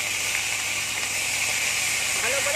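Boiled figs and potatoes sizzling in a pan with fried spice paste and turmeric, a steady loud hiss running unbroken throughout.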